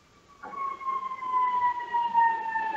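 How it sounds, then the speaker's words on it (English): An ambulance siren wails steadily close by, a sustained rising-and-falling electronic tone that starts abruptly after a brief quiet moment and holds loud to the end. "Ambulance."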